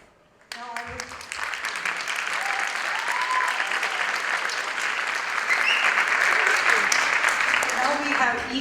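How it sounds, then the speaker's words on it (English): An audience at a dance arangetram applauds a young dancer, clapping starting abruptly and swelling into sustained, dense applause from a full crowd, growing louder toward the end. "join you in applauding the efforts of a young dancer"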